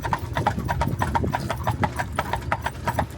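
Horse hooves clip-clop in a steady, brisk rhythm as a horse pulls an Amish buggy, close and continuous over a low rolling rumble.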